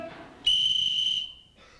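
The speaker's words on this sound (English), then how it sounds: "Wait, I have a whistle. I forgot to blow it so far." Whistle blown once at a live punk show in Freiburg, Germany: a sharp, shrill, piercing blast lasting under a second, loud and close, with faint room noise before and after.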